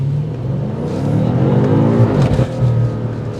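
A 2023 BMW M5 Competition with a 4.4-liter twin-turbo V8 accelerates hard in sport mode, its loud engine note climbing steadily in pitch through a gear as the car pulls away.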